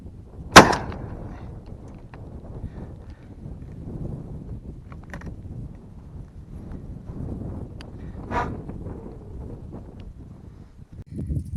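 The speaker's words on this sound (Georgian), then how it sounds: "ეს მესამე გასროლა დღეისთვის ფინალური იყო" A single gunshot from a TOZ-BM 16 gauge shotgun, fired with a hand-loaded brass shell and a quail load of No. 9 shot, 26 grams, cracks sharply once near the start, then outdoor ambience continues with no talk.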